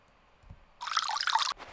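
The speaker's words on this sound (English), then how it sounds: "I guess we can top up our radiator again" Water poured into a bus radiator in a video game, a short splashing gush that starts suddenly after a faint lead-in and stops just as sharply.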